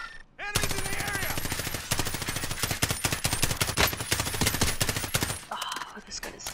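Rapid automatic gunfire from a weapon in the Warzone video game, loud dense bursts firing almost continuously for about five seconds before cutting off, with faint talk and game sounds at the edges.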